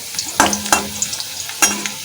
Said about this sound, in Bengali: আলুগুলো একটু লাল লাল করে ভেজে নেব বন্ধুরা, ঢাকা চাপা দিয়ে।